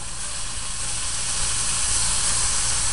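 New York strip steaks sizzling in a hot pan just after flipping, a loud, even, continuous hiss with no talking over it.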